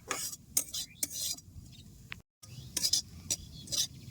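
Lentil powder being stirred and dry-fried in a pan for split pea laddoos, with scraping and stirring strokes in short bursts, a faint sizzle underneath and a brief pause midway.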